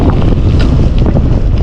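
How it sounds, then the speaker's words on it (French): Heavy wind buffets the microphone of a gravel bike rolling along a small paved road, a loud, continuous low roar with gusty fluctuations and no speech. "Par contre on se tape toujours du vent là."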